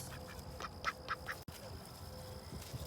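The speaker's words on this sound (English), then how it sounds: "Look at them mean old ducks." A backyard flock of ducks quacks in a short cluster of nasal calls near the microphone, a few overlapping quacks over light outdoor background noise.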